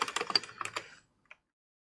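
Quick run of close, crisp computer keyboard keystrokes for about a second, then a pause and a single faint key tap, with no one talking.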